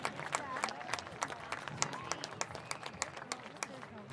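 Spectators clap and applaud for the seniors and their families at an ADM versus Denison-Schleswig varsity football game. Dense, brisk clapping fills the outdoor stands, with crowd murmur and voices mixed underneath throughout.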